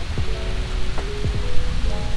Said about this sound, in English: it started to rain really heavily